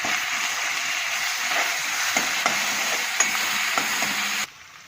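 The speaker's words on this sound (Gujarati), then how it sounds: "હવે લીલા મરચાં અને આદુ ને લસણ વાટ્યું હતું તે નાખી દઈએ મસાલો." Green chilli, ginger and garlic paste frying in hot oil with cumin and curry leaves for a Gujarati gavar sabzi, giving a steady loud sizzle with a few faint stirring knocks before it cuts off abruptly near the end.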